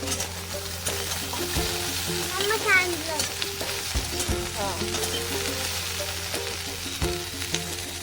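Okra sizzling in hot oil in a home kitchen pan, a steady crackling fry with occasional stirring clatter, close and continuous, with faint background sounds.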